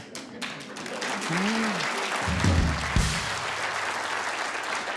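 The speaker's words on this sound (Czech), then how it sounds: "vám tleska jenom za to, že jste přišel" Studio audience at a Czech TV talk show applauding a guest, a mid-level wash of clapping that builds and holds steady, with a voice briefly speaking over the start.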